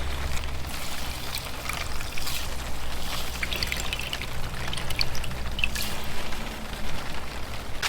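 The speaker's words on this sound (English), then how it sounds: "Just take this, wring it out, get all those yummy juices out of there." Fireweed and wild chamomile steeped in liquid are wrung out by hand, juice pouring and dribbling steadily into a container, close and continuous with no talk.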